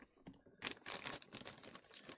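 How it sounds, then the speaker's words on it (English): Faint, brief crinkling and snipping as scissors cut open a plastic snack bag close by, a short burst of rustly cuts with no talking. "When in doubt, use the scissors."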